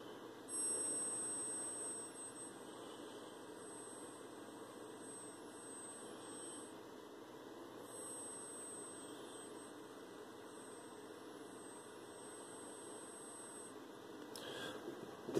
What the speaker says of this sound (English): You can hear the filament ring.